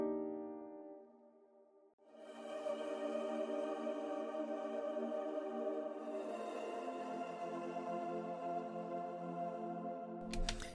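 Unprocessed synth pad from Analog Lab 5, a sustained, bright, trance-like chord that enters after a soft lead-in near two seconds and holds steadily at moderate level, with a brief click at the end.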